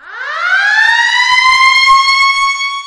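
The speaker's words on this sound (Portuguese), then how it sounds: "o alarme do hospital toca" A loud electronic hospital alarm in the video game Injustice 2, set off when life support is switched off, sweeps upward and then holds steady, a continuous harmonic wail sounding close and alone.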